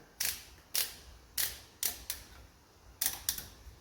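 A clamp tightening onto a Split-Fire 1165v log splitter, a series of crisp, close mechanical clicks in uneven pairs and singles, fairly quiet against a low background hum.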